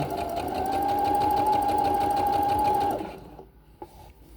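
A sewing machine stitches a side seam of a rolled hem, running as a steady, loud whirring hum with a fine mechanical rhythm for about three seconds before winding down to a stop, followed by a faint click.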